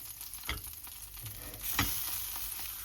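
Sausages sizzle steadily in a frying pan, close and moderately loud, with a couple of short scraping stirs across the pan.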